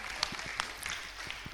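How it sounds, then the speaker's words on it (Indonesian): Brief, quiet burst of audience clapping at a women leaders' conference session in Indonesia, a soft scattered patter with a few sharper claps and no talk over it. "Tepuk tangan."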